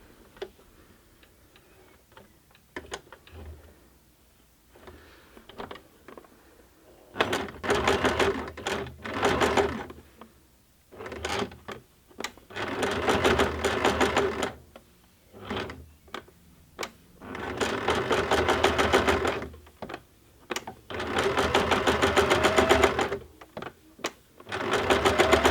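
A sewing machine stitching a zigzag around the edge of a fabric heart ornament, running in close bursts of rapid mechanical chatter separated by short pauses, loud and alone.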